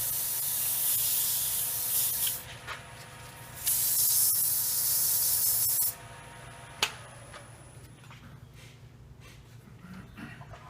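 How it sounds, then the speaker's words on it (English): Hissing, rasping friction of sandpaper against spinning wood, with louder bursts in between and a steady motor hum underneath. "it doesn't hurt to reverse the lathe to help sand it"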